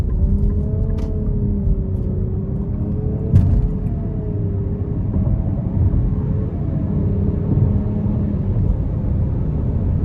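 A 2024 Nissan Rogue SV with a 1.5-litre turbo three-cylinder speeds up onto an interstate, giving a steady, even engine rumble mixed with road and wind noise from inside the cabin, with faint rising engine tones and no talking.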